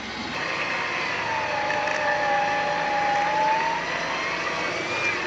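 A pickup truck engine held at gentle throttle while creeping through snow and mud: a steady, fairly loud drone with a slowly rising and falling whine, no voices.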